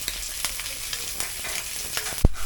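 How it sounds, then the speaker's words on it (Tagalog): Onion and garlic sauté in a pan for old-style paksiw na pata, a close steady sizzle with light stirring clicks and one sharp metallic clank just before the end. "Lalagyan natin ng sibuyas. Tapos isusunod natin itong bawang."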